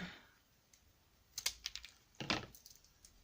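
Plastic drinking straws are cut with scissors for a craft project, giving two short clusters of crisp, faint snipping clicks a second apart in a quiet room.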